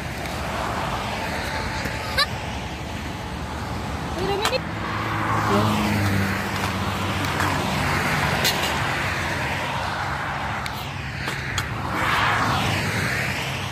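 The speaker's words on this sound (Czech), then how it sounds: "Takže jede další kamion." Heavy trucks and cars rush past on a Czech motorway, a broad steady roar of traffic with individual lorries swelling and fading close by, while people talk over the noise.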